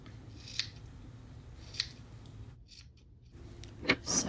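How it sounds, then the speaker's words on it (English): Scissors trimming the cotton fringe of a macramé coaster, a few crisp close snips spaced about a second apart in a quiet room. "I'm going to finish trimming up a little bit here."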